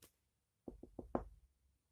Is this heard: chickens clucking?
no